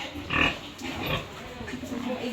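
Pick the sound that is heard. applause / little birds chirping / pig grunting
pig grunting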